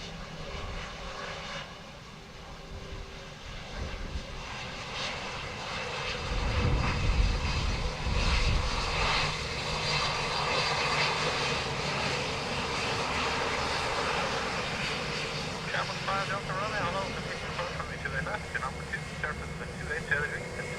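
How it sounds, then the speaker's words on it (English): A Eurowings Airbus A320 from Dusseldorf landing at Dublin Airport on runway 28 left in strong storm winds, a continuous loud engine roar with rumbling rising in the middle, heard alongside wind noise and faint chatter. "Eurowings A320 from Dusseldorf."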